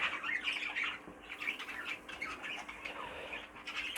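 Pet birds squawk and chirp indoors in repeated short, bright calls with brief pauses, fairly faint and close by, with no talk over them.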